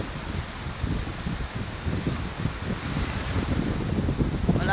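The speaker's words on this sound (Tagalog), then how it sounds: "Oh, lalaki na ng alon mga idol." Strong monsoon wind buffeting the microphone over a rough sea, with big waves surging and breaking near the shore where boats are moored, a loud continuous roar with rumbling gusts throughout.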